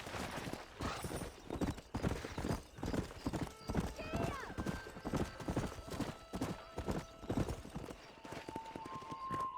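Horses galloping in the Western game Red Dead Redemption, a rapid rhythmic clip-clop of hooves close by, steady throughout, with a brief whinny and snorting mixed in.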